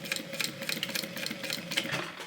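A sewing machine stitches a tote bag with a steady, fast mechanical rattle at close range, sewing over starting stitches and then backstitching, with no pauses or talk.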